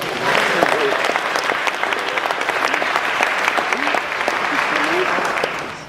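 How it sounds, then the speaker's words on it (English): A large crowd at a bodybuilding masters seminar applauds Lee Labrada, with loud, dense clapping that continues steadily for several seconds and a few scattered cheers and voices mixed in before it begins to fade. "How about a big round of applause for Lee Labrada"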